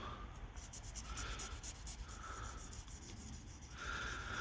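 Kerb-scratched alloy car wheel being hand-sanded at home, quick repeated rubbing strokes close by, soft and even in rhythm, no voices.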